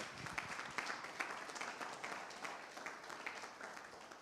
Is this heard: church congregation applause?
yes